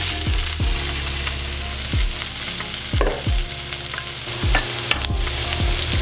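Broccoli and peppers stir-fry in hot sesame oil with a steady loud sizzle, broken by repeated sharp clacks and scrapes of a utensil against the pan, no voices.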